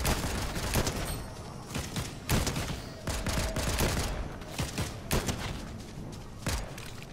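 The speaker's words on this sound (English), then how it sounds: "It's that pistol." Pistol gunfire in the Fortnite video game during a Chapter 4 solo match, with repeated sharp shots and bursts spread across the clip, fairly loud and busy, with faint game sounds between them.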